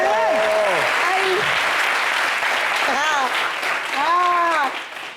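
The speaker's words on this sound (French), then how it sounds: "applaudissez un peu pour mon président" Studio audience applause on a Congolese entertainment talk show, a dense steady wash of clapping lasting throughout, with voices calling out and speaking over it.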